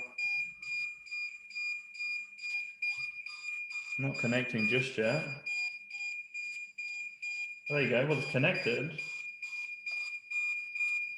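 A steady, high-pitched electronic beeping from a DJI Mavic Mini drone controller repeats throughout, with two short bursts of someone talking over it.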